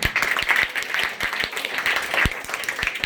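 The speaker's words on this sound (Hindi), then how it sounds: "एक बार जोरदार ताली" A crowd claps continuously at a talk in Surat, Gujarat, a dense patter of many hands with a few sharper claps standing out, moderately loud.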